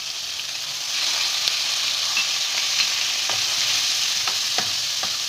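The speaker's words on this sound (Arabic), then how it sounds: "دلوقتي كده بقى هنزل باللحمه." Cubes of meat fry in hot ghee with spices, making a loud, steady sizzle that rises once the meat goes in, with light stirring clinks and scrapes in the pan.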